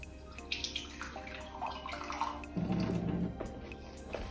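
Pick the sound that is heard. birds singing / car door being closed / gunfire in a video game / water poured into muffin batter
water poured into muffin batter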